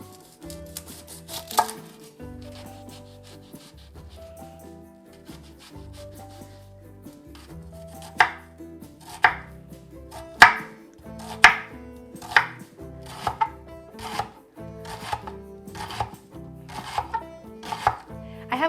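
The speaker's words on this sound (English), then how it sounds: "I'm going to start by dicing up one medium yellow onion." A knife dices a medium yellow onion on a cutting board, starting with sparse cuts and building into quick, steady chops close by, with no talking.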